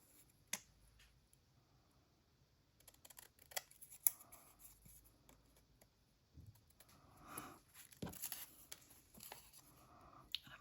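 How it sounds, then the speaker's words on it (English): Quiet snips and clicks of scissors cutting scrapbook paper to size, scattered irregular cuts up close with soft paper rustling between them. "I'm going to cut them to size,"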